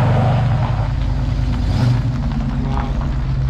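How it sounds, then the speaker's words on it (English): A Pontiac, a classic muscle car, pulls away from a summer Cars & Coffee meet, its loud low engine rumble steady and close over outdoor crowd noise. "Pontiac now leaving the meet."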